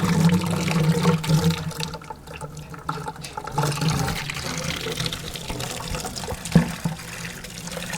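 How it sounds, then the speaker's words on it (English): Homebrewed American pale ale wort drains through a strainer into a bucket, a steady pouring splash that runs continuously at moderate volume with a brief louder slosh near the end. "the strainer is going to help us aerate the wort, splash the wort into the bucket"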